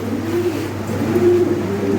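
Soft, low cooing from active pigeons being handed over after a sale, a steady murmur against a faint engine-like hum in the background.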